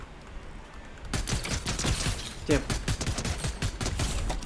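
Rapid gunfire in a video game shootout, bursts of shots crackling over a low background with a voice talking over it.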